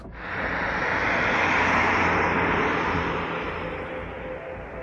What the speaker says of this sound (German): Es ist ziemlich reger Flugverkehr heute.